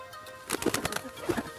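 A pigeon coos a few soft, throaty notes close by, with faint background hum and no talking.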